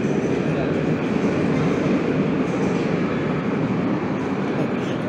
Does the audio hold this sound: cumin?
no